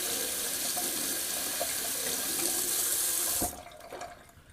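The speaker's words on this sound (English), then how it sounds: "Just gonna rinse out the razor." Cold tap water runs steadily into a sink as a safety razor is rinsed, a loud continuous splashing rush that cuts off abruptly near the end, leaving a few faint drips and handling sounds.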